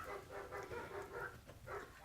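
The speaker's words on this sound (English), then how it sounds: "my dogs are barking at a skateboarder going by" Dogs barking at a passing skateboarder, a run of faint, muffled barks and yips in steady bursts, heard from some distance indoors.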